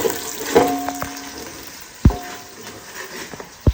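Onion, bay leaves and curry leaves sauté in hot oil with a soft, steady sizzle, broken by a few sharp clanks of a utensil stirring against the pan.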